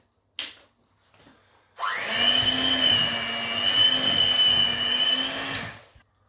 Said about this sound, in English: we're going to whisk that with an electric whisk until smooth